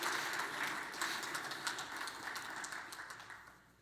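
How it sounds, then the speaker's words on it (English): Applause from a conference audience rises as a faint, scattered patter of hands, fairly distant and thinning out toward the end. "Another round of applause"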